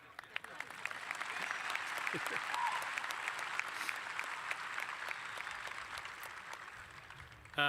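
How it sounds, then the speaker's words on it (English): Steady applause from an audience at a college commencement ceremony, a dense wash of clapping that holds at an even level for several seconds. "It's okay to clap now."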